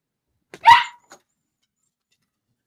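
A single short dog bark rings out close and loud, followed by a tiny yip, then silence.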